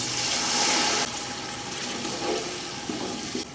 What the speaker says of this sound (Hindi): ये ½ गिलास पानी जाएगा इसमें।